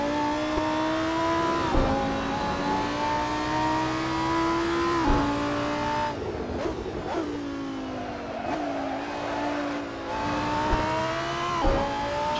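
Lamborghini Huracan Super Trofeo racing around Estoril in the Assetto Corsa game, its engine droning loud and steady with rising revs, sharp gear-change dips and drops in pitch as it brakes and accelerates through corners.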